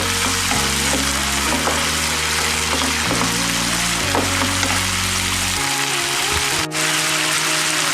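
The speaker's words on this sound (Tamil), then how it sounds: "இப்போ வந்து நம்ம தக்காளி சேர்த்துக்கலாம் தக்காளி கொஞ்சம் நல்லா வரணும் இந்த ஜூஸ் இறங்கணும்" Tomatoes sizzle and fry in a pan for a tomato kuruma, a steady bright crackle throughout, with a low tonal hum underneath.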